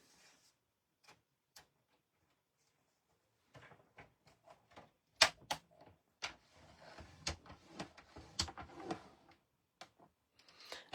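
Paper being folded and pressed into a crease for a perpetual calendar, heard as scattered soft taps and crisp rustles that thicken into a busy run of close handling sounds in a quiet room.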